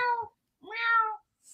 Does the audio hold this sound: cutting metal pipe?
no